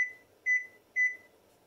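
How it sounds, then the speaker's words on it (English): Three short electronic beeps, evenly spaced about half a second apart, clear and close against a quiet hum. "we're really going to set our timer for 3 minutes"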